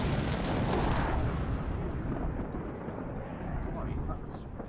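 Bombs dropped by bombers explode in a video game tournament match, a loud continuous rumbling roar of blasts and engine drone that fills the whole stretch and eases slightly toward the end.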